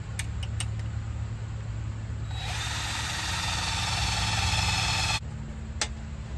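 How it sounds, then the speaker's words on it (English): A power drill bores a hole in metal while a Humvee is worked on, a loud whine lasting about three seconds over a low idling rumble, with a few clicks before and after. "Drill hole down."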